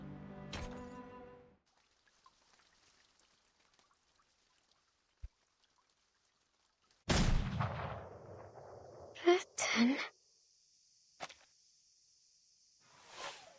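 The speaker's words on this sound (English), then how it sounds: "The bullet flies from the barrel, trailing a long white streak through the air." Gunshot sounds in the game Reverse: 1999, a sudden loud burst around the middle followed by sharp cracks and a lingering high whine, separated by near silence, with a brief musical tone at the start.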